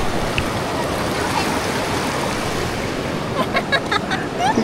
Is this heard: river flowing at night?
yes